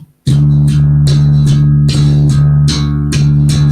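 Bass guitar plays a fast fingerstyle run that brings in the ring finger, giving a quick, even stream of loud plucked notes close to the listener.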